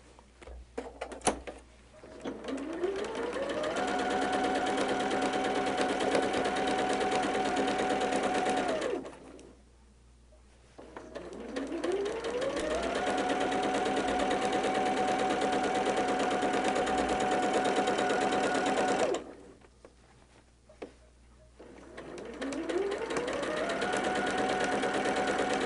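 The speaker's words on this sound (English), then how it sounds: "we're going to sew these together" Quilt blocks stitched together on a sewing machine: long steady runs of whirring needle motor, each rising quickly to speed and holding it, broken by short quiet pauses between seams, close and loud.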